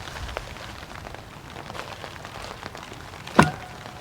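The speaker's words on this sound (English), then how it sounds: "suddenly the sky was covered with clouds and a light rain started" Light spring rain falls in a mountain forest, a soft steady patter close by with one brief louder tap near the end.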